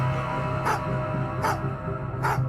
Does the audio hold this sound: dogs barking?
yes